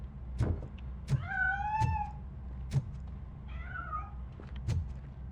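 Two drawn-out cat meows in the video game Robocop: Rogue City, over a low rumbling background, punctuated by several sharp clicks or thumps at irregular intervals.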